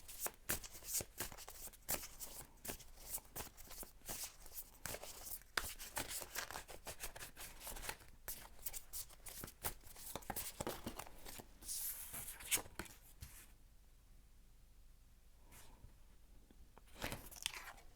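Tarot cards are shuffled by hand in a long run of rapid papery riffles and slaps, close and quiet, easing off toward the end with a few last flicks.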